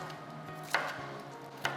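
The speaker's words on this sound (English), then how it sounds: "chopping" A knife chops vegetables on a cutting board in a home kitchen while making homemade gnocchi, two sharp, close knocks spaced about a second apart over a quiet background hum.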